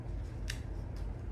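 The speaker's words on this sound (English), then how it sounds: "We got that stem cut there" Scissors snip a white rose stem in one crisp, close cut, followed by a fainter second click over a steady low background hum.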